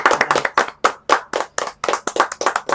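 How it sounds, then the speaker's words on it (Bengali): A group of people claps hands at a cake cutting, a burst of quick, close, fairly loud claps running unevenly for a few seconds. "চলো একটা হাততালি।"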